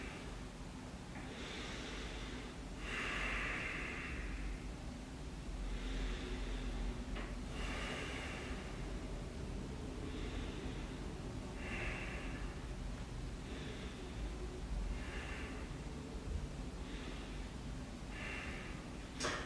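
Slow, deep breathing in a neutral position during a leg-day yoga session for athletes, with soft airy breaths repeating every couple of seconds over a steady low room hum.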